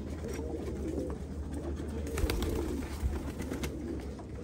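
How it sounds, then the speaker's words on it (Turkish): Pigeons or doves cooing softly in a loft among pairs of male and female birds offered for sale, low murmuring coos under steady background noise with no talk. "Tertemiz kuşlar."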